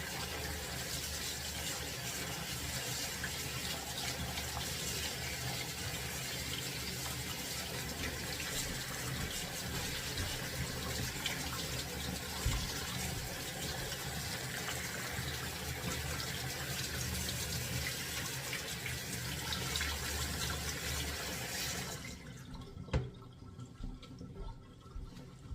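Tap water runs steadily over vinegar-curdled chhana, a broad, even rush of splashing water that holds for over twenty seconds before cutting off, leaving a few faint drips and clinks.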